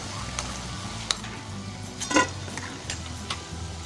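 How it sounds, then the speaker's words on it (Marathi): Moong dal pakoras deep-frying in oil, a low steady bubbling sizzle with a few sharp scrapes and clinks of a utensil against the pan, close up. "आणि अशाच प्रकारे आपल्याला बाकीचे भजे पण तळून घ्यायचे आहेत।"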